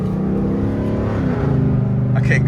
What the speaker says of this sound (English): So John's gonna spin.